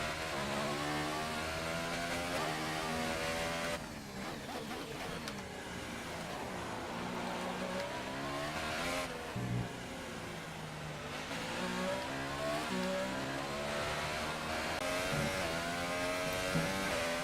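Williams Formula 1 car with a Mercedes engine in F1 2018 at the Chinese Grand Prix: a high-pitched engine screams through repeated upshifts and downshifts, rising and falling in pitch as it accelerates and brakes, heard steadily and close throughout.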